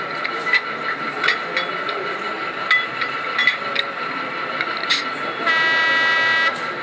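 Mechanical clicks and metallic taps repeat over a steady electronic hum from a model locomotive, then a sustained bright horn tone, recorded from the real locomotive, sounds for about a second near the end.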